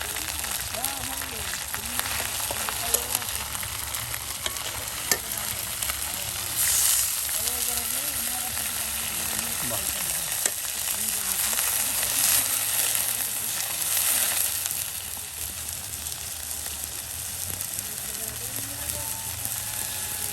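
Quail meat frying with ground spices in a village pot, a steady dense sizzle running throughout at an even level, with faint talk in the background.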